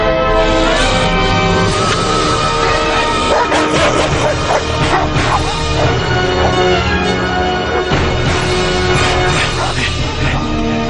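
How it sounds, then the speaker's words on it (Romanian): Cartoon dogs bark and yip repeatedly in an animated Tarzan adventure, the barking loud and continuous over a busy music-and-effects mix. "Dați drumul la câini."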